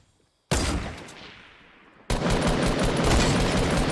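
Gunfire in the Fortnite video game: a sudden loud shot at half a second that decays into a lingering tail, then a second burst of dense, sustained fire that stays loud to the end, with no talking.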